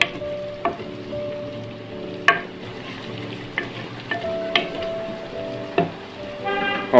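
Beef frying and being stirred in very hot ghee in a handi, a steady close sizzle with sharp scrape and clatter accents from the stirring spoon throughout.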